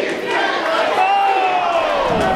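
A wrestling crowd at a hardcore match cheers and roars in a loud, sustained swell, with shouted voices rising through the noise.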